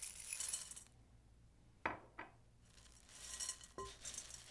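Light rattling and clinking of mini pretzels, dried cranberries and chocolate-coated candies tossed in a bowl, with a few sharper clicks in between, close and fairly quiet.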